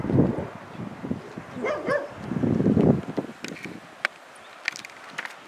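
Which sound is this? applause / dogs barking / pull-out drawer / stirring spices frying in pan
dogs barking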